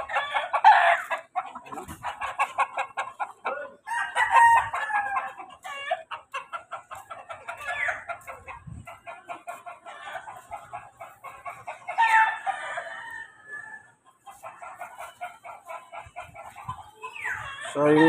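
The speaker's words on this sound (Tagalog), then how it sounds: "Maraming manok dito." Several chickens cluck and chatter close by, while a rooster crows loudly a few times across the stretch, with brief voices mixed in.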